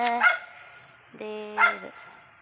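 A dog barks twice, a few short nearby barks with a whiny tone, separated by a quiet pause.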